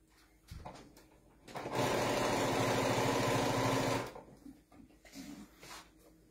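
A sewing machine stitching fabric for a ginger giraffe toy runs in a steady, fast mechanical whir for about two seconds, close and clear, with quiet handling clicks before and after.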